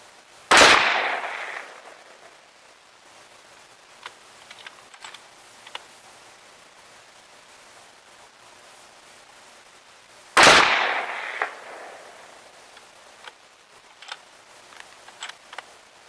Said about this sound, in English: with these next couple shots I'm going to try and get a hit on one of the bottles underneath the hood